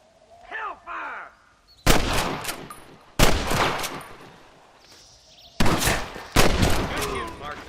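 Gunfire in the western video game Red Dead Redemption: several loud, sharp shot bursts with rolling echo tails, spaced a second or two apart, after a brief stretch of chirpy ambient sound.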